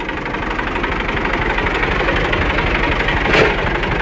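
A tractor engine idles steadily and loudly up close on farmland being prepared for cauliflower planting, with a constant low rumble and rapid knocking pulses throughout and no talk.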